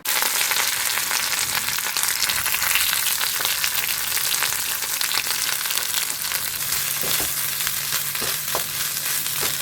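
Potato curry fries in a kadai wok, giving a loud, dense, continuous sizzle with occasional stirring scrapes and crackles throughout.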